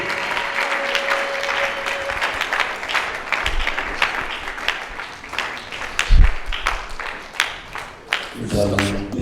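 Church congregation applauding and acclaiming the Lord during a service, a sustained wash of clapping with scattered shouts, a brief low thump midway and musical tones entering near the end.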